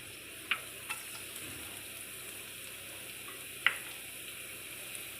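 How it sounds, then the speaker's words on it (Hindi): Finely chopped garlic frying in oil in a home kitchen, a soft steady sizzle throughout with a few sharp utensil clicks against the pan. "इसको मैं 1 से 2 मिनट फ्राई करूँगी"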